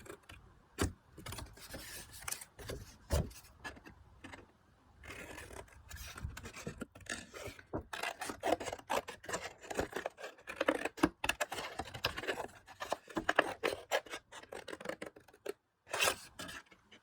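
Card stock is trimmed by hand for a blackboard tent card, giving quiet, irregular snips and cutting rasps close to the listener.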